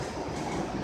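Train rumbling past close by near a station in South Miami, a steady loud continuous roar with rail noise throughout.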